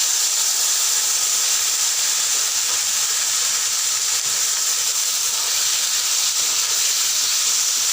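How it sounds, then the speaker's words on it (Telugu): Chopped tomatoes, four medium ones, frying in a pan for paneer masala curry, giving a steady, loud, even sizzling hiss that runs unbroken throughout with no talk. "ఇప్పుడు మీడియం సైజు ఒక 4 టమాటాలు కట్ చేసి వేయాలి."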